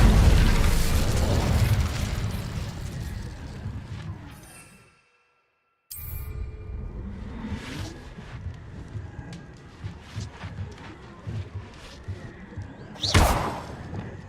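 A fire spell bursts out in Hogwarts Legacy with a loud whooshing blast, then a brief silence, followed by rumbling crackle and a sharp burst near the end.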